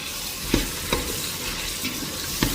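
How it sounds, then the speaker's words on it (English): Beef sautéing in a pan with carrots, green pepper and coriander, a soft steady sizzle with a few gentle stirring knocks, close and moderately quiet, no speech. "So I'm going to add in carrots, green pepper and coriander, and we saute for a little bit."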